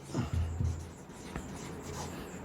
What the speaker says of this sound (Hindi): पहले मैं एक एग्जाम्पल लिख रहा हूं